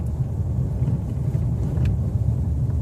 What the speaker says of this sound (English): You can probably hear me hitting these bumps.